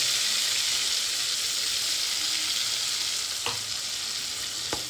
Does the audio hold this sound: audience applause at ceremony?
no